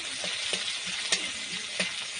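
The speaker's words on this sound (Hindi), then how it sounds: "ये देखु दे तेल गरम होची।" Oil heating in a pan for an Odia fish curry gives a steady, bright hiss, broken by a few soft pops and crackles, moderately close, with no voices.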